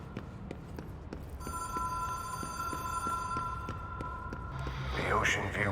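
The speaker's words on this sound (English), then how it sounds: "Phone is ringing." A phone rings repeatedly in the video game Control, a steady electronic bell tone pulsing in regular bursts over a low ambient hum, with brief voice sounds near the end.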